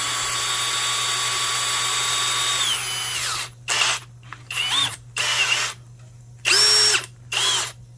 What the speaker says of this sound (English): and that's on high-speed mode, but we can hear the drill.